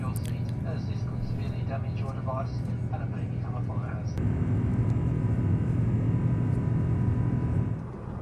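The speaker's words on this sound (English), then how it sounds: "The takeoff on Airbus A380 is always quite quiet" A Qantas Airbus A380 takes off, heard from inside the cabin as a steady low rumble and engine hum. Faint chatter and clinks sit over it at first, then the roar swells slightly before easing near the end.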